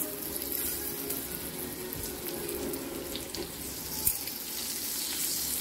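Gaboli, fish roe, fries in a pan with curry leaves and is turned piece by piece. A steady broadband sizzle runs throughout with a faint utensil scrape partway through.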